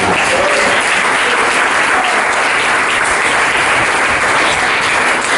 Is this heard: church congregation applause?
yes